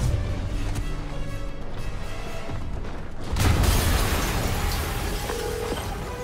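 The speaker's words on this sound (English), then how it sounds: "an explosion just... I saw it" An explosion in Marvel's Spider-Man on PS4 erupts as a sudden loud broadband blast midway, then leaves a dense rumbling roar with debris and mechanical clatter over a busy game backdrop.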